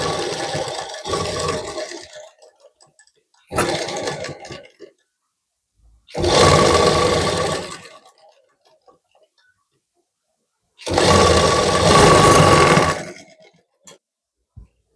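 A sewing machine stitches a blouse sleeve in four separate bursts of rapid mechanical running, each lasting one to two seconds, with quiet pauses between them while the needle is stopped and the fabric turned.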